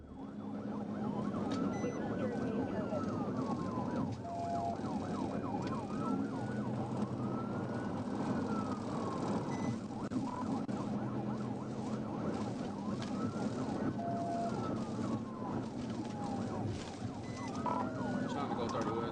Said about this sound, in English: When the trooper activated his emergency lights and sirens